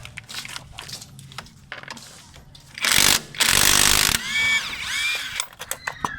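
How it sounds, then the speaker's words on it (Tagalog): Hand ratchet clicking in quick bursts while a brake caliper bolt is removed on a Mitsubishi Lancer, with a louder sustained rasping stretch in the middle and sharp clicks near the mic. "So, tanggalin lang muna natin tong bolt na to."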